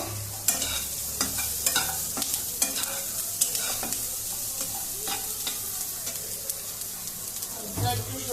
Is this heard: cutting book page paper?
no